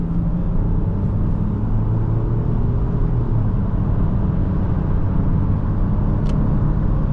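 2024 Nissan Rogue S accelerating on the road, heard from inside the cabin as a steady, dense low rumble of engine and road noise, with no speech.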